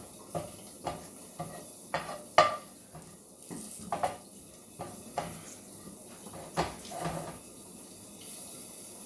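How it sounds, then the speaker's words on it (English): Ingredients being stirred in a pan make intermittent scrapes and clacks of a utensil against cookware, with scattered kitchen knocks over a quiet background and no talking. "Stir this for about 30 seconds"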